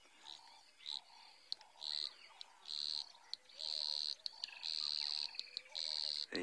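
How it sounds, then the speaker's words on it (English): Puddle frogs call at night beside a pond, a run of repeated high buzzy notes in bursts that grow longer and louder, with softer chirps and insect-like trills around them and no talking. "That's one of the puddle frogs."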